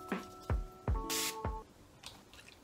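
A bottle of Catrice setting spray releases one short hiss of fine mist, then a fainter second puff, among a few small clicks and taps from handling the bottle.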